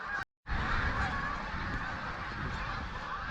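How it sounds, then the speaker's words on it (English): Geese honking at Lintrathen Loch, a dense, continuous chorus of calls across the whole stretch with a brief gap near the start, no talking. "There's a lot of geese here just now"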